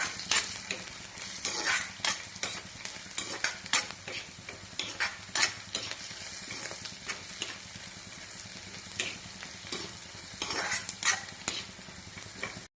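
Shallots being stirred in a pan with turmeric powder and crushed chilli for an okra stew, steady sizzling under a long run of repeated spoon scrapes and taps against the pan at an uneven rhythm, close and clear.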